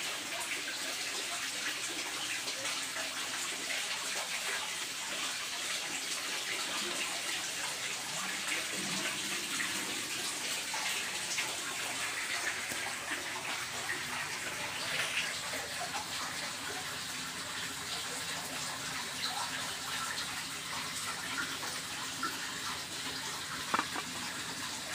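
Koi pond pump running, with water gushing steadily from a pipe as a constant, faint, even rush of flowing water, with no talking.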